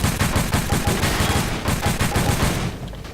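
Rapid bursts of automatic gunfire from a video game, dense and loud, rattling continuously for about two and a half seconds before cutting off, with no voices over it.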